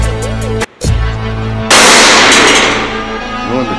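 A loud gunshot from a Glock 17 Gen 4 or Glock 21 Gen 4 pistol at a shooting range cracks out after a brief lull, then rings down through a long echoing tail.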